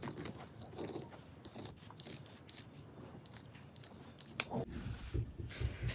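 Scissors cut out a fabric circle with a series of crisp, close snips spaced at irregular intervals, some louder than others, with no speech.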